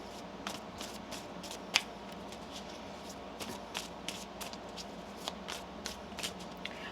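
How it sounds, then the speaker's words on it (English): Tarot cards are shuffled softly up close, with quick riffling flutters and light taps scattered across a quiet background. "One more shuffle."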